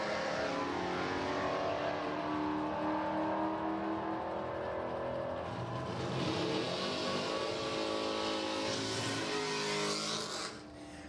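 A brown 1970 Plymouth Cuda makes a drag race pass, its engine loud and roaring as it accelerates hard with a rising pitch, then fading abruptly near the end, with no talk.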